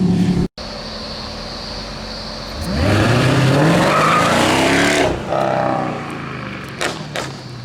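A car pulls away and accelerates hard, the engine rising loudly with a tire squeal for a few seconds before easing off to a steadier drive, close and with no talking.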